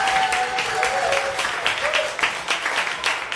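A television game-show studio audience applauds to cast a vote, a dense, steady wash of clapping that carries on throughout, with a voice briefly heard over it.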